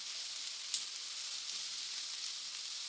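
Chicken in a tomato and pepper sauce fries steadily in a pan, giving a continuous close bright sizzle with faint crackles and no talking.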